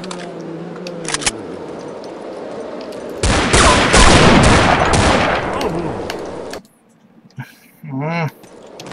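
Bursts of enemy gunfire in the video game They Hunger: a dense, loud volley of rapid shots for several seconds, with sharp single pops before it and talk around it.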